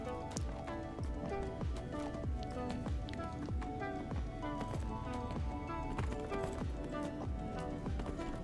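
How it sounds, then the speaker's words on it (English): Rapid, rhythmic hoofbeats of a galloping horse in the game Neverwinter, steady and continuous over a dense backdrop of game music. "Gotta run back on my horse."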